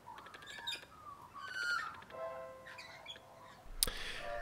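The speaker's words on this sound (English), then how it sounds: "More birds rocked up and there was an obvious pecking order in the bird kingdom, in which the magpies were at the bottom" Magpies and lorikeets squabble over bread outdoors in Australia, giving faint, scattered chirps and squeaky calls that overlap in quick bursts.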